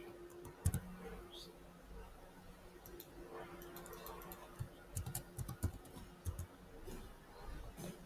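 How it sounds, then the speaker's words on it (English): Soft, irregular keyboard clicks come from someone typing on a computer, faint and close, in scattered bursts over a quiet room hum. "I'm pretty much typing out everything here"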